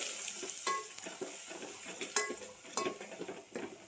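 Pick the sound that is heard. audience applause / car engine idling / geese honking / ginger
ginger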